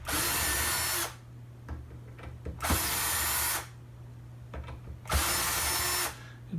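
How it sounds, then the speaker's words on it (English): A power tool loosens the neck bolts on a Fender Limited Edition Vintera '60s Stratocaster, whirring in three loud sustained bursts of about a second each, separated by quieter gaps with faint handling clicks. "loosen off these bolts"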